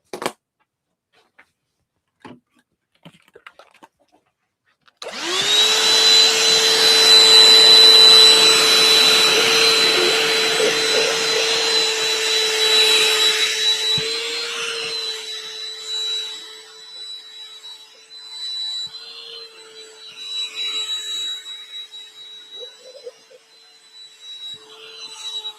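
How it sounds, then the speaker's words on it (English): Vacuum cleaner running along the edge of a quilt, switching on after a few soft handling clicks and then droning loudly and steadily with a high whine, its tone shifting as the nozzle moves. "now I'm going to vacuum that little bit up"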